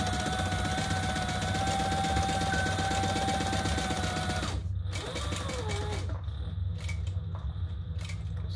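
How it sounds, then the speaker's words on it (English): A sewing machine stitching the seam of a Dianne crossbody bag runs in a fast, steady mechanical whir for several seconds, then stops, leaving faint clicks and light handling noises. "All right, let's sew this, leaving the top straight edge open."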